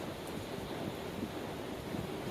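Sea waves on an Arabian Sea beach make a steady, soft, continuous wash with wind across the open shore, heard faintly and without speech.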